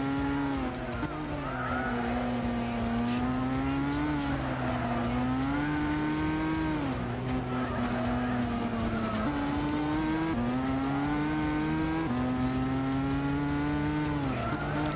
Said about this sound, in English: Some tough racing with these opponents right behind me.